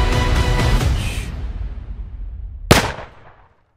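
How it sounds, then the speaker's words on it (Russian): Cannon fire from a Napoleon battle film: a heavy blast rolls out and slowly decays, followed by a second sharp boom that fades away quickly. "Готовьте пушки."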